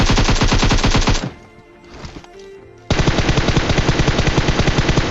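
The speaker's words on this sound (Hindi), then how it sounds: "जस्ट आप फायर कर देते हो और तभी एक और दिखता है" Rapid automatic gunfire in the PUBG Mobile shooter game, loud and close, in dense bursts that stop for about a second and a half and then resume as a sustained stream of shots.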